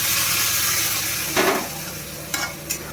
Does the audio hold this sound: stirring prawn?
yes